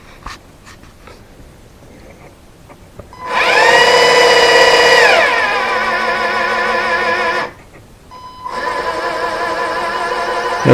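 An electric motor fitted with a 6-to-1 reduction gearbox whines in two bursts, the first high-pitched and strained, slowing and dropping in pitch over about four seconds, then a pause before a second steady whirring run.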